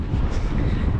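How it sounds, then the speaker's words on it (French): Headwind buffets the microphone on a beach stretch of the Trail de la Côte d'Opale race, a dense, steady low rumble that fills the whole moment without pause. "On a le vent de face."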